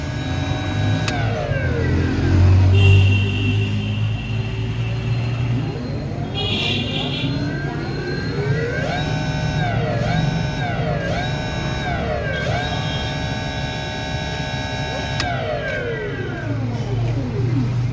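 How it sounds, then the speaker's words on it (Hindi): An e-rickshaw electric motor runs after its connections are rewired, giving a steady whine with tones that sweep up and down as it speeds and slows, close and loud, while someone talks over it. "तो देखिए अब कनेक्शन पे हमारा मोटर बिल्कुल फर्स्ट क्लास चल रहा है"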